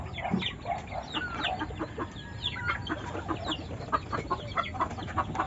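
Junglefowl and breeding hens cluck repeatedly on a farm hillside, a steady scatter of clucks and bird calls at moderate distance with no talking.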